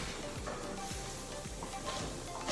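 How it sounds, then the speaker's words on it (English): Onions saute gently in a pan over low heat, giving a soft continuous sizzle with small crackles and the occasional stir, close and steady with no talk. "This is just a saute to soften these onions."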